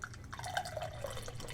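Thomas Hooker lager poured into a glass, a soft trickling and dripping stream with small splashy bubbling notes, close but quiet and heard without talking.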